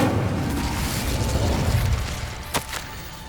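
An Incendio fire spell goes off in Hogwarts Legacy with a roaring whoosh that fades out, then a sharp pop or crack lands near the end.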